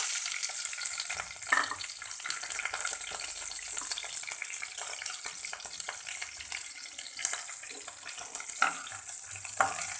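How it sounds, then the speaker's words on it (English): Curry leaves, garlic and chili fry in hot oil with a steady, dense hiss and crackle, broken by occasional louder pops and stirring clatter, close by and with no talking. "Let it fry nicely."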